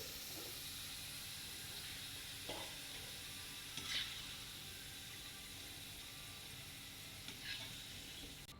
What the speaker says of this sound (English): Now the next I'm adding carrots for the frying.